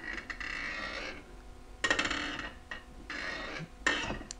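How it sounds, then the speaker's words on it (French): A squeaking spring inside a mortise door lock grinds in two drawn-out creaking bursts as the handle is pressed, each ending in a sharp click, close and moderately loud. "c'est le bruit typique du ressort à l'intérieur de la serrure qui grince"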